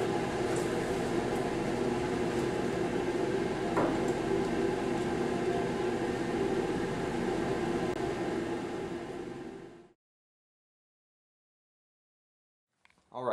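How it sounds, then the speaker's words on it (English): A laboratory fume hood exhaust fan runs as a steady broadband whoosh for about ten seconds, then cuts out abruptly into silence, followed by a faint clatter at the end. "There's a switch over here. You can hear a fan going."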